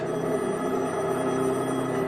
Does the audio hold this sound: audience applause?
no